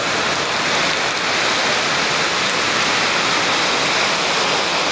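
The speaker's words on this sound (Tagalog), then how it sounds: "tubig ulan na tinatangay ng hangin" Rainwater driven by strong wind gives a loud, steady, dense wash of noise with no breaks, close to the microphone and without any voices.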